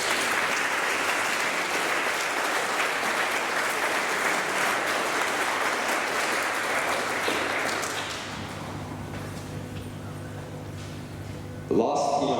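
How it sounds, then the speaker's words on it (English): A large crowd applauds at a school graduation ceremony, dense sustained clapping that thins after about eight seconds into scattered claps and room murmur, with a brief bump of noise near the end. "Can we please give a round of applause for our executive staff?"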